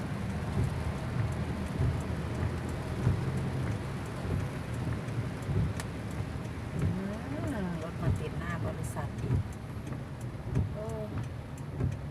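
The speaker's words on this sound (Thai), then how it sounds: "ฝนตกนิดๆในน้ำก็จะขังแล้วนะเพื่อนๆ" Light rain falls over a traffic jam, a steady soft patter with faint low rumbles, while a voice talks quietly and intermittently.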